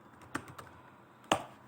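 Keys on a computer keyboard click faintly and sparsely as a networking command is typed on Linux, a few soft taps followed by one sharper keystroke.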